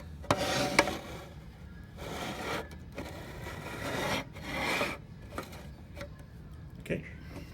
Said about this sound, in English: I use my finger, and it's usually better if it's wet, to just scrape off any extra